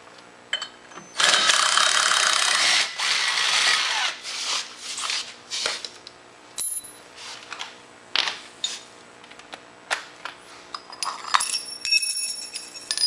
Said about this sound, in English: I want to take the bolt out of the secondary.